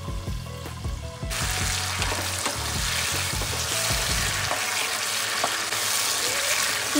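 Chopped tomatoes with dried chilli, bay leaf and panch phoron sizzle in a pan for village-style Bengali tomato chutney, with a dense close frying crackle and a few clatters of stirring early on.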